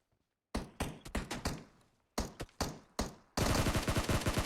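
Bursts of gunfire in PUBG Mobile: several short volleys of loud shots separated by brief pauses, ending in a sustained rapid automatic burst, close and alone without talk.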